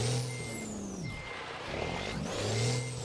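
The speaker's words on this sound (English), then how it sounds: "But just listen to that engine, man." A Freightliner FLB low cab truck engine in American Truck Simulator drones with a low, steady hum, its pitch sliding down and then rising again as the rig shifts and accelerates, with no talk over it.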